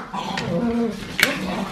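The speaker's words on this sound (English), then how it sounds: "This is the official morning greeting from the doggies." Dogs greet in the morning with short whimpers and whines, a few soft yips and one brief sharper bark-like burst, close by with faint background voices.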